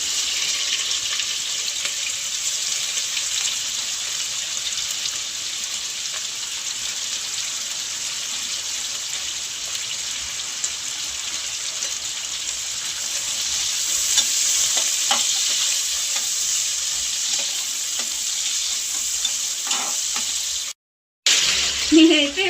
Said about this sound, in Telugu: ఇప్పుడైతే ఆనియన్స్ వేస్తున్నాను